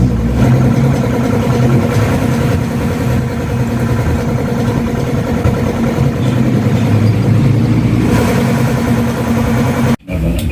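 A rebuilt Yamaha Sniper 150 motorcycle engine, with new crankshaft bearings, connecting rod and timing chain, runs steadily and loudly at a low idle. It cuts out abruptly near the end, then briefly resumes.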